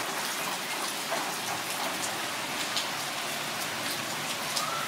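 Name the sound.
steady rain falling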